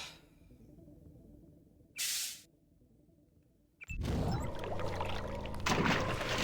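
Water in a flooded maintenance area in Deus Ex: a brief hissing spurt, a lull, then loud continuous rushing and pouring that carries to the end.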